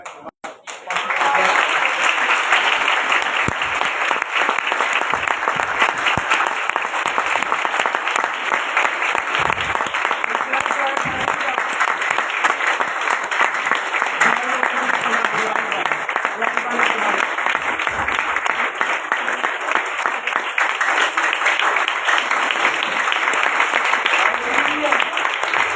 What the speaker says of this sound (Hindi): सारे मिलकर ताली बजाएं एक दफा फिर खुदावंद के जलाल के लिए।